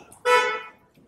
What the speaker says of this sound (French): Je lui ai dit de klaxonner exactement à midi et demi.